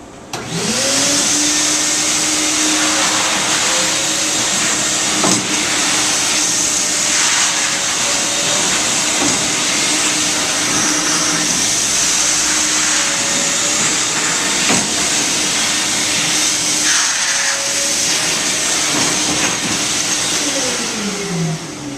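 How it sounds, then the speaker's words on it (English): A wet vac runs loudly and up close over a freshly rinsed marble floor, its motor whine holding steady and dipping slightly in pitch as the nozzle moves, with faint clicks and no voices. "And wet vac it again."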